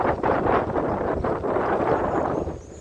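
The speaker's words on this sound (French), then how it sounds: "Il y a un peu de vent." Wind gusting outdoors in Espalion by the Lot river, buffeting the microphone in loud rumbling surges that swell and ease over a few seconds, with no talk.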